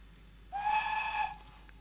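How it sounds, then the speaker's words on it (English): A single steady blast from the steam whistle of an 0-4-0 saddle tank locomotive on the Lavender Line in a train simulator game, clear and fairly close, lasting under a second amid a quiet background. "Little whistle."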